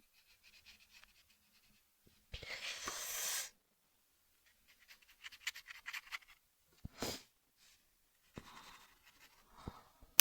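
A pencil shades a drawing on damp paper in short scratchy strokes, a few quick bursts of close, dry scraping separated by silence.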